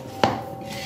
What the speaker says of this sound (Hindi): ये मैंने कुकर को बंद कर लिया, मैं इसके ऊपर वेट रखूंगी